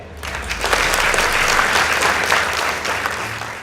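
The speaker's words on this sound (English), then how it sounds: "Please give them a round of applause." Audience applause for two high school debate teams at the close of a debate, a steady dense clapping that swells quickly and holds for several seconds before easing slightly.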